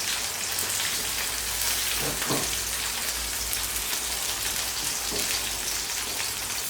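Aubergine fries in very hot sunflower oil with a dense, steady crackling sizzle that runs unbroken throughout, close and even, with a few soft clatters beneath.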